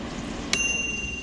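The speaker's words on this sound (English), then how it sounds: "The bell goes on, indicating the end of the cooking process." Chefman air fryer signalling the end of cooking with a single bright bell ding whose ring lingers briefly over a quiet room hum.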